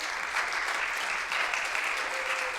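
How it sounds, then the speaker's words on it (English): Dense, steady applause from a worship service congregation for choir members, sustained and close with no pauses. "So please give them a round of applause for stepping up."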